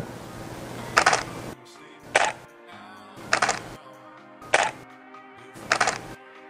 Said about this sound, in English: Here's the silent shutter sound.